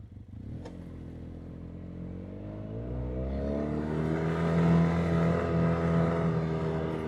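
An ATV engine runs on a forest trail, droning steadily and then rising in pitch as the machine speeds up, moderately close with a brief clack near the start.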